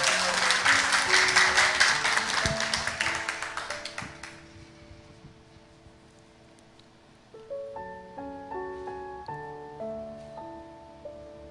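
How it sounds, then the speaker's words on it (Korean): Applause rises from an audience welcoming a poet to a reading, fading out over about four seconds, after which soft piano-like tones continue in the quiet hall. "여러분 박수로 청해 주시기 바랍니다"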